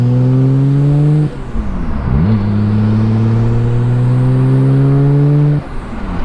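A Nissan R32 GTR is driven, its engine droning loud and close, rising in pitch through the gears with two clear dips as it shifts, no speech.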